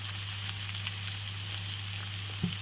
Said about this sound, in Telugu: Deep fry.